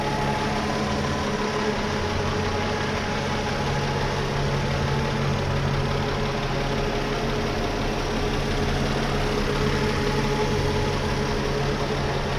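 A 2004 Mercedes E320 wagon (W211) idles steadily with the hood open, its engine a continuous, even hum with a belt missing a piece, loud and close for the whole stretch with no talking.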